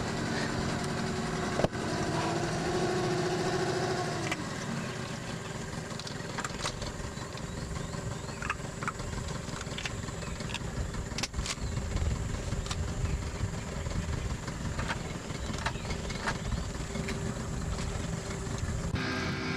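Outboard motor driving a motorized dugout canoe along a river in Maya country, a continuous droning engine hum held steady and fairly close for the whole stretch, with occasional faint clicks and knocks over it.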